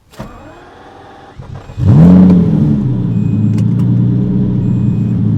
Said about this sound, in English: there's just nothing quite like the sound of a naturally aspirated V12